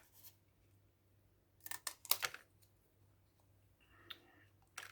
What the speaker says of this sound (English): So I'm just going to cut this one as a strip.